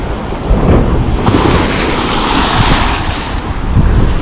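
Sea waves roll onto the beach at Lazarevskoye, a loud, continuous roar of surf with heavy wind buffeting the microphone throughout.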